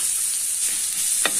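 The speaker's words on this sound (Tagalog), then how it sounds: "Pag lumalabas na ang oil, pwede na natin add ang garlic." Garlic fries in hot oil for fried rice, giving a steady broadband sizzle with one brief stirring scrape near the end and no voices.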